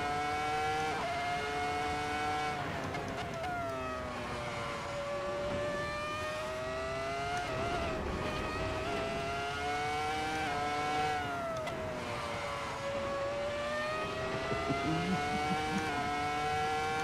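Race car engine in Assetto Corsa revs loudly and continuously, climbing through the gears with repeated shifts and lifts over about seventeen seconds, alone without talk.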